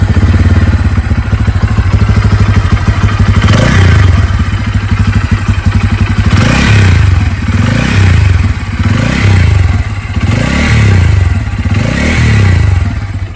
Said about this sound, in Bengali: প্রথমে বাইকটির ইঞ্জিনের সাউন্ড শুনবো